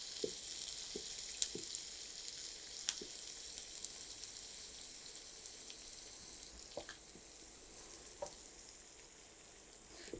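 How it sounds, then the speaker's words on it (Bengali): Chopped onions sizzle steadily in hot oil for a bitter gourd fry, a constant close hiss sprinkled with scattered small pops and crackles, with no voices. "পেঁয়াজটা ভাজা হয়ে গেছে"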